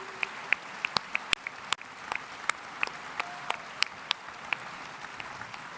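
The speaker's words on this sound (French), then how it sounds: "Je vous demande de l'applaudir, s'il vous plaît, très chaleureusement." Applause from a union congress audience: a sparse crowd clapping, with sharp distinct claps standing out from a steady bed of hand-claps, close and moderately loud throughout.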